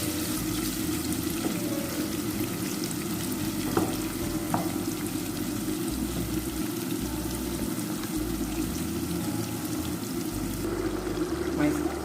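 Onions fry in a pot for Nigerian egusi soup, a steady close crackle and sizzle with occasional stirring scrapes running throughout.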